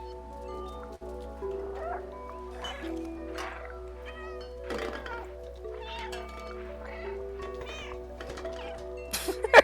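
In the video game Stray, a cat meows repeatedly in a run of varied, fairly close cries over a steady low hum, ending with a louder burst.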